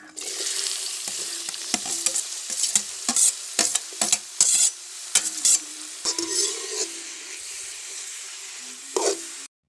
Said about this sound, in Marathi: कढईमध्ये चांगला दोन डावलं भरून तेल घालायचं आणि त्याच्यावर हा बारीक चिरलेला कांदा घालायचा आहे